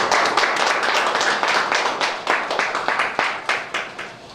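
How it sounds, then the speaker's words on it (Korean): Audience at a church debate forum clapping together, a steady run of close, dense claps with a rhythmic pulse that continues for several seconds. "좀 그래도 박수 한번 쳐주시고."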